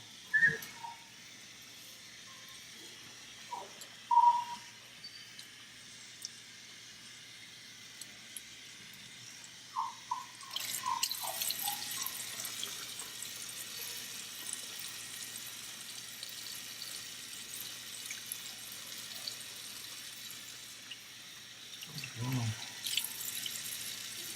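Running water from a tap splashes while Aussiedoodle puppies around six weeks old are bathed, a soft hiss that swells halfway through, with a few faint clinks and a person talking quietly.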